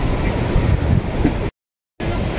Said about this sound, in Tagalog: Dito po ay super hangin.